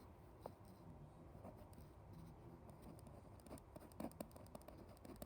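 Pen scratching across paper while jotting something down during an algebra lesson, a soft, continuous scribbling with brief faint taps, close and quiet, with no speech.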